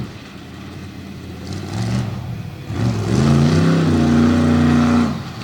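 Higher Education, a monster truck with a steering problem, roars through a freestyle run at the Monster Invasion motorsports event in Fredericksburg, Virginia. Its loud engine revs climb and hold in strong rising surges.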